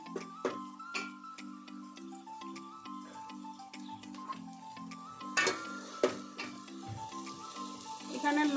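Ginger, garlic, green chili and onion paste frying in a pan gives a soft, continuous sizzle under steady background music, with a few sharper spatters and clicks midway through.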